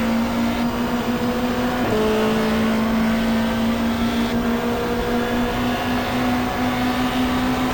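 A 1995 Super Touring race car in the game GTR2 at Calder Park, engine held at full throttle as a loud steady drone that drops briefly with a gear change near the start, then climbs and holds again.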